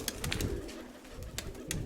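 Pigeons coo close by in a brief burst, soft calls mixed with sharp fluttering or scuffing noises.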